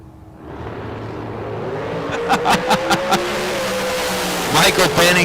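Race car engines roar loudly off the starting line at a drag race, rising in pitch as they accelerate away, with an announcer talking over the noise.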